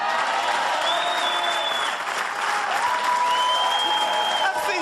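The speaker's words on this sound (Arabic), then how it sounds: "وانتوما من الصباح وانتوما تضحكوا وتصفقوا" A studio audience at a Moroccan comedy sketch show claps steadily throughout, a dense continuous wash of applause with some cheering mixed in, loud and close.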